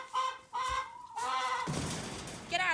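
Chickens cluck and squawk close by in short bursts, with a harsher, louder cackle toward the end.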